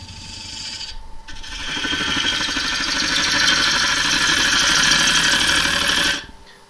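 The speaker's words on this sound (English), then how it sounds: "Speed the lathe up a tiny bit as well." Wood lathe sped up to about 750 RPM while lacquer finishing, a steady close broadband rasping whir with faint flapping, rising after a brief pause near one second and stopping abruptly near the end, with no talk.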